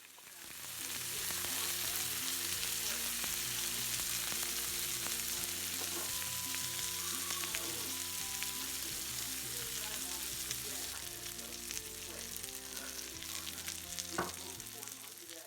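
Emperor fish frying in a pan with a steady, continuous sizzle that runs throughout, overlaid by soft tonal background music and occasional faint clinks.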